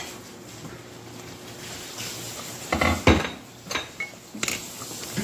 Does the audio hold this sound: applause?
no